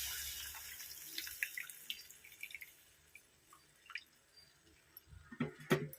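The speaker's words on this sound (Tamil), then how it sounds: "நல்லா வடிகட்டி ஊற்றிக்கணும்." Strained tamarind water is poured into a cooking pan for a fenugreek kuzhambu, giving faint intermittent drips and small splashes with quiet gaps, ending in a brief louder splash, with no talk.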